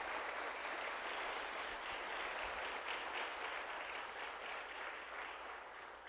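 A church congregation clapping during an Easter Sunday service, a dense, even wash of applause from many hands, moderately distant and steady throughout, fading slightly at the end.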